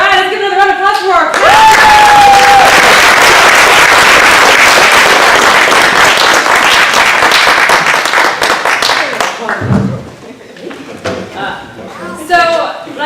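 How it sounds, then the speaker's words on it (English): A live audience at a community movement event breaks into a sustained round of applause and cheering, loud and dense for about ten seconds, then tapering into scattered claps and voices. "All right, let's give another round of applause for our"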